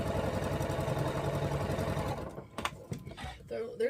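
Sewing machine stitching quilt pieces, a steady close mechanical whir running for about two seconds before stopping, followed by a few soft handling clicks.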